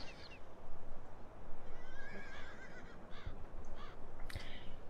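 Horses whinny in the Missouri River Bottoms farm game map, with a couple of neighs and crow-like caws over a steady ambient background, no talking.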